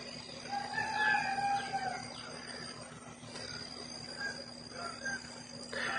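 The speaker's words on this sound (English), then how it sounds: "Yep, here comes the chickens." Rooster crowing at Saturday sunrise, with drawn-out crows rising over a steady outdoor hum and a constant tonal drone, a couple of fainter calls following later.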